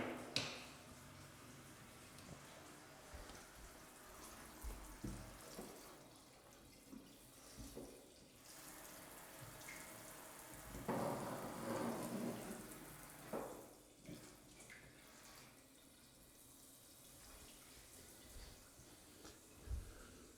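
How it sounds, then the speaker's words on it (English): Water spilling from a leaking shower screen in a mansion bathroom, a steady soft wash of running water that swells louder near the middle, heard alone. "Have a look at that. Water coming out already."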